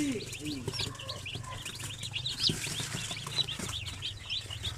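Native chickens on a chicken farm cluck and chirp steadily at moderate distance, with overlapping calls and a low background hum.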